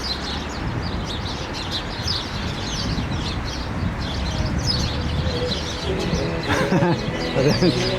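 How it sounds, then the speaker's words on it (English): Sparrows chirp in scattered high tweets over steady outdoor background noise on a walking path near Plymouth, England, with a voice talking nearby. "Listen to the sound of nature, the sparrows."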